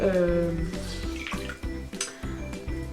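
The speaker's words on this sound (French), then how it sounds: "une éponge que j'essore tout de suite parce qu'elle est trempée" A wet sponge, soaked in a small bowl of water, is wrung out close by, water splashing and dripping back into the bowl while someone talks over it.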